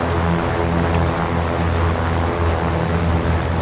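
A Cessna 414 twin piston engine in Microsoft Flight Simulator drones loud and close during a magneto check run-up, a steady low propeller rumble with layered harmonics holding nearly constant throughout.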